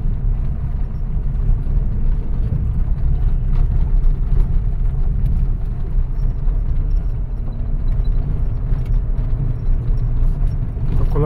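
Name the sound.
car engine while parking the vehicle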